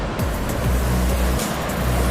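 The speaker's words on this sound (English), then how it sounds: "And so you see how high the waves are?" High ocean waves break over a coral reef off Isla Mujeres, Mexico, a steady, loud roar of surf and wash, with no talking.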